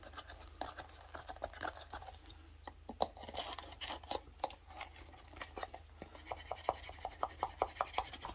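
Hands rub a finish into the leather of a handcrafted knife sheath, giving quiet close rubbing and scuffing strokes with irregular taps that quicken into a steadier rhythm toward the end.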